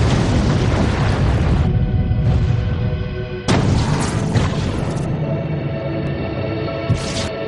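Deep, roaring blasts of a volcanic explosion rumble loudly in repeated surges, with sudden booming onsets and a sustained heavy rumble between them.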